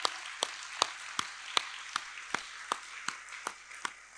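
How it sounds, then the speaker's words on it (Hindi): A single audience member's slow, evenly spaced hand claps, about eleven sharp, faint claps in a steady rhythm with no voices. "यस, जोरदार तालियां।"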